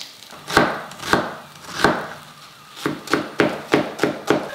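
A knife chops an onion on a cutting board while pork ribs binagoongan with eggplant cooks nearby. About nine sharp close thuds land, spaced at first, then quicker, with no voices.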